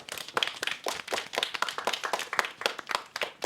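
A small class of pupils claps for a classmate who spelled a word correctly, a brisk, uneven patter of hand claps filling the room at close range for several seconds.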